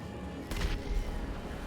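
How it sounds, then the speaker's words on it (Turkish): An explosion in GTA Online goes off at close range, a sudden broad low boom lasting about half a second that then fades into a steady game-sound rumble. "Mami La, patladı yine."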